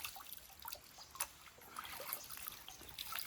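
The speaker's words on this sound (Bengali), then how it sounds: "গাছের যে ফাটলটা আছে, এই ফাটল থেকে জলটা উঠছে কন্টিনিউ।" Spring water rises from a crack in a rocky hillside, faint trickling and scattered small drips running continuously at close range with no other sound.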